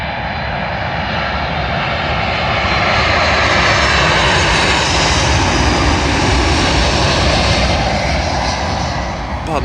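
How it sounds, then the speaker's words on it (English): A Delta Airlines Airbus A330 jet arriving at London Heathrow runway 27L from New York, its engines a steady, loud broadband roar that holds for the whole stretch. "Arriving in now is a Delta Airlines Airbus A330 from New York to London Heathrow"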